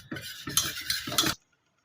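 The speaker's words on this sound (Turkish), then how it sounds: "Ocağımın üstüne aldım. Pişene kadar karıştırıyorum." Béchamel sauce for cauliflower being stirred in a pot on the stove, several close scraping swirls of a utensil against the pot, then abrupt silence; no voices.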